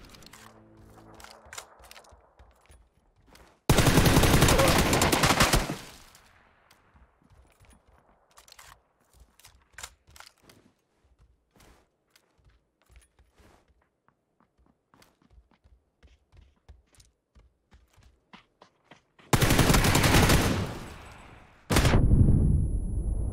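Heavy automatic gunfire erupts in loud, dense bursts during a PUBG squad fight, separated by long stretches of quiet footsteps and small scattered sounds, with a final double burst near the end.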